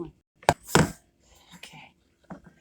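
A knife cutting through onion and orange pepper on a board while making beef stroganoff, giving a few separate sharp cuts with quiet gaps between them.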